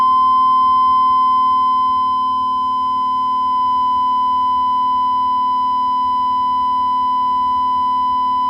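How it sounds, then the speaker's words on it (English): Steady, loud sine-wave test tone from a frequency generator fed into a Stryker 955 CB radio on the bench, holding one unchanging pitch over a faint background hum, with no voices. "Okay, I'm going to do that in sine wave."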